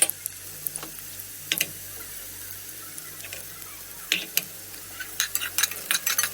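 Garlic and onion sauté in a pan with a faint, steady sizzle, broken by scattered clicks and scrapes of a utensil stirring, which grow busier toward the end.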